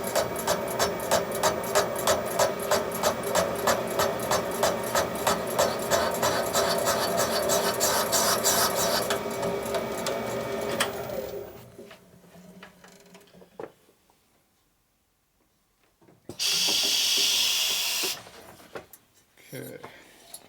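A valve seat cutter works a Harley M8 cylinder head valve seat in small light cuts, a rapid rhythmic chattering scrape up close, followed by a pause and a brief burst of air or grinding noise.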